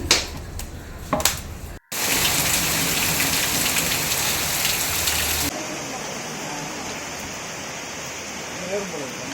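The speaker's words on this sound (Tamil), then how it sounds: "இதை பாருங்கள் எவ்வளோ மழை பெஞ்சிருக்குன்னு சொல்லிட்டு காமிக்கிறோம் பாருங்கள்" Heavy rain pouring outdoors, a steady loud dense hiss that fills the scene, preceded by a few brief knocks and a short dropout, with the downpour continuing at a slightly lower level toward the end.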